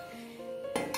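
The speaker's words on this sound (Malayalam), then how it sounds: "എല്ലാം കൂടി കുക്കറിലിട്ടു." Ingredients going into a pressure cooker: a quick run of metallic clinks and scrapes, close and fairly crisp.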